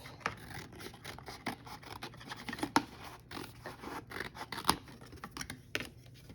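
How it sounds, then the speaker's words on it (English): Scissors cutting up a small cardboard box, a close run of quiet irregular snips, scrapes and crinkles, with a few sharper cuts scattered throughout; no talking. "we will go ahead and cut our little box up"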